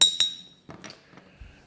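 Glass bottles of different types and sizes knocked together, two bright ringing clinks followed by a few softer rattling taps and a low thud, close and sparse, no talk.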